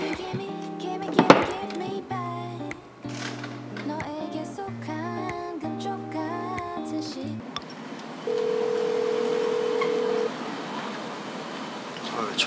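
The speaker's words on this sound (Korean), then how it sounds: "전화를 안 받아." Phone call that goes unanswered, beeping ringback tones repeating in a steady on-off pattern over other rustling and clatter, followed by a sustained tone near the end.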